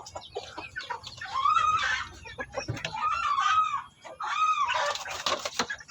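Hens clucking and calling in several drawn-out bursts, close by, with faint background noise between the calls.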